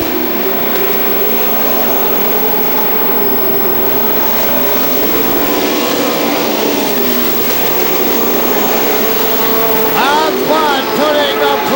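Pro stock race cars roar around a track at a 1999 night race at the Star Classic, a dense continuous loud engine drone with pitch sweeps as cars pass, and crowd and announcer speech mixed in.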